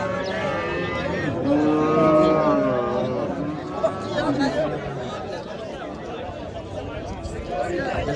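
Cattle mooing at the Olot livestock market, several low drawn-out calls over a crowd of chattering voices nearby.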